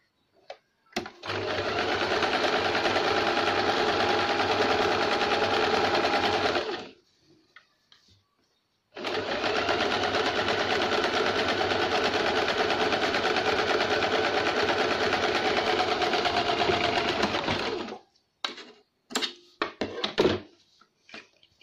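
A sewing machine runs a double line of stitching on a blouse, humming close and loud in two long steady bursts with a short pause between, then a few clicks and knocks as it stops.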